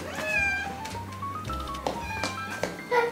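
A cat meows several times in short, close calls, with a few soft knocks and taps between them.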